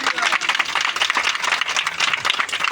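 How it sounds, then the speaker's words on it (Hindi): A congregation at a Hindi-language church sermon claps together in a dense, continuous burst of applause, close and fairly loud, lasting the whole stretch without talk over it. "मारो तालियां यीशु ली"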